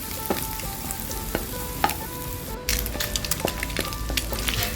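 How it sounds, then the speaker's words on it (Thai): Garlic fries in a little oil for a glass noodle and napa cabbage stir-fry, giving a constant crackling sizzle with light clinks of a utensil against the pan. "ใส่กระเทียมลงไปเลยค่ะ แล้วก็เคี่ยวกระเทียมให้เหลืองหอมเลยนะคะ"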